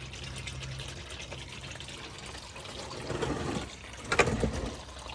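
Motor oil draining from the oil pan of a 2021 Ford Super Duty 6.7 Powerstroke diesel, a steady close splashing trickle with a brief louder gush near the end.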